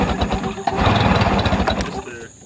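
A jon boat outboard motor, its fuel line just reconnected after coming undone, cranks and runs roughly, a loud, rough, sputtering engine noise throughout with an uneven rhythm, with people talking over it.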